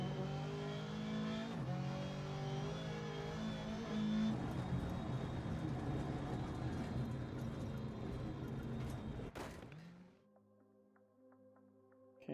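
An R5 rally car engine in a rally video game revs hard and sustained, with gear-change shifts and a loud continuous drone that drops away sharply near the end, leaving a quieter idle hum.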